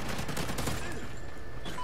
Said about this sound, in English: I be crouch-shotting everywhere I go